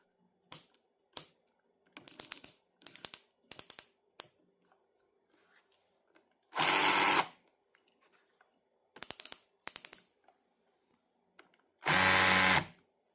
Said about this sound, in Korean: 드릴 척을 딱 잡고 돌려보면 드르륵 소리 나죠? 약합니다. 그런데 숫자를 높이면 높일수록 둔탁한 소리로 점점 바뀌죠?